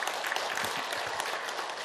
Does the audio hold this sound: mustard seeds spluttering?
no